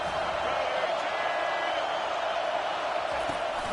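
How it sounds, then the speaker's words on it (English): A football stadium crowd roars in a dense, steady wall of cheering and noise, sustained and loud throughout with no breaks. "And the crowd coming to life here, trying to help this defense down in the red zone"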